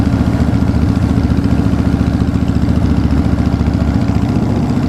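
A 2013 Harley-Davidson Fat Bob Dyna motorcycle engine runs close and loud with a steady, throbbing idle and no talking over it.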